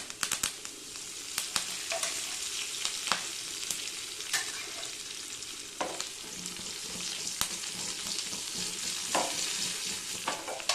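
Chana dal, urad dal, cumin, mustard seeds and curry leaves splutter in hot oil for tempering, a close, steady crackling sizzle broken by sharp pops and occasional louder bursts, with no talking.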